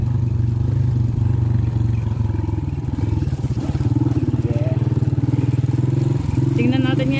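A motorcycle engine labours along a rough, difficult road, a loud steady throbbing close by with clattering jolts, while people talk over it.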